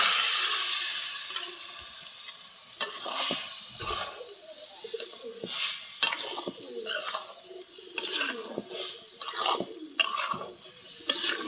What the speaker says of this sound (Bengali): এখন করলাগুলো দিয়ে দিব।